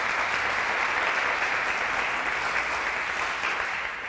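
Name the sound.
applause for Rosemead Primary choir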